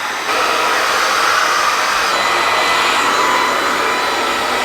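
A hair dryer with a diffuser on the cool setting blows steadily and loudly while curly hair is dried, a continuous close whoosh with no breaks.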